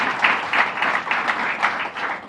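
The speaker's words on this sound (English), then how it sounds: "So let's give a round of applause to our mayor here." Audience applause greeting the mayor at an outdoor apartment ribbon-cutting ceremony, a steady wash of many hands clapping at once, fairly loud and continuous with gentle surges.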